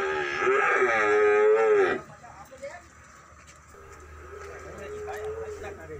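Cattle being loaded onto a truck for delivery to a Vietnamese farm household: one loud, drawn-out moo sounds up close, then a fainter, lower call follows, with voices heard around them.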